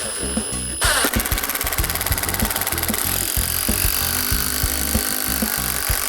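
SKIL 12-volt impact driver driving a 3-inch drywall screw into wood: a loud, continuous rapid hammering buzz after a brief start, holding steady for about five seconds at close range.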